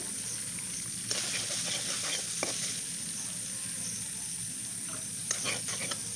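A spice paste of garlic, ginger, salt and turmeric sautés in a pan with a loud, continuous sizzle, broken by occasional scrapes of stirring and no voices.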